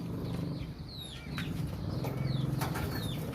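A young pigeon is released to fly with quick bursts of wing flapping, set against faint bird chirps and clucks, all fairly quiet.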